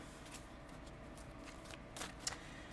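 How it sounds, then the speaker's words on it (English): A tarot deck is shuffled by hand in soft, quick riffling bursts, close and quiet, with one brighter snap near the end and no talking. "Let's shuffle this all back up."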